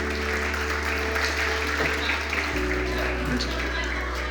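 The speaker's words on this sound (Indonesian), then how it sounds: "Oke, tepuk tangan Pak teman-teman" Audience applause at a leadership training session, a dense, steady wash of clapping from a crowd filling the whole stretch at constant loudness over a low hum.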